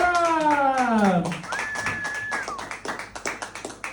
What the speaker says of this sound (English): Everyone give a huge round of applause for Marrron!